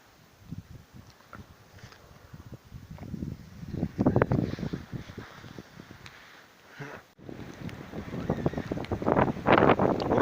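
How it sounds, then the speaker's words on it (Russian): Hurricane-force wind mixed with snow roars in heavy, surging gusts across a March winter camp near a campfire, with loud buffeting against the microphone and brief lulls between blasts. "Ураганный просто ветер."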